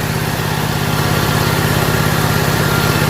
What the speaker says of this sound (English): I got a good, clean sounding engine.